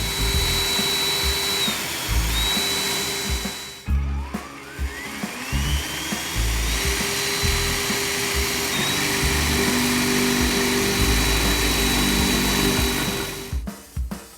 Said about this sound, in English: using a masonry bit, carefully drill the 2 holes